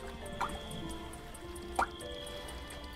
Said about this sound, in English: Okay, how many drips do we need?